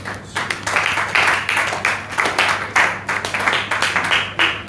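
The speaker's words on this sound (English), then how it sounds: "let's give him a round of applause" A round of applause at a live event, with rather sparse, distinct claps in uneven bursts from a modest crowd, fairly close and loud, steady hum beneath, and no talking over it.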